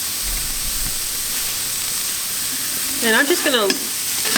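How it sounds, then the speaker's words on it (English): Onions cooking in olive oil in a pan over medium-high heat, the start of a chili for pressure canning. A constant, fairly loud hissing sizzle carries on throughout, and a person speaks briefly over it near the end. "so I just have my onions going here"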